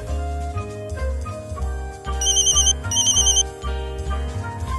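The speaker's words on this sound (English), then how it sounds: "Suddenly, your phone rings." A phone ringtone trills in two short electronic bursts over loud, steady background music, with no talking.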